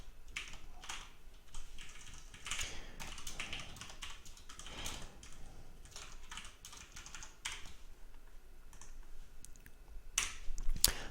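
Rapid clicking of keys on a computer keyboard as JavaScript code is typed, bursts of close keystrokes with short pauses, no talking.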